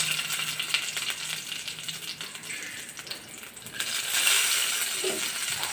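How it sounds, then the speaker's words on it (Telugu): Urad dal and garlic cloves sizzling in a spoonful of hot oil for a raw mango coconut chutney tempering, a crackling hiss that swells louder partway through. "అండ్ ఇప్పుడు మనం తాలింపు వేసుకుందాం"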